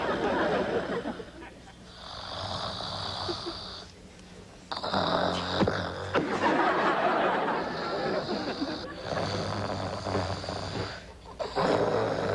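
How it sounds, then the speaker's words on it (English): A sitcom character snores loudly in a bedroom scene at night, with repeated rasping breaths that rise and fall and brief pauses, mixed with snorts and some laughter. "Please stop snoring so I can get some sleep."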